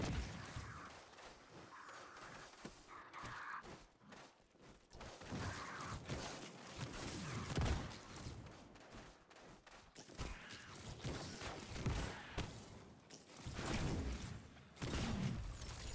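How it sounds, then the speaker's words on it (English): Bow shots fire in Destiny 2 inside the K1 Logistics Lost Sector, alternating quick hip-fired arrows with fully charged shots amid a dense, loud stream of bursts, impacts and explosions from the game. "you're going to alternate between hip-fired shots and then fully charged-in shots with the bow"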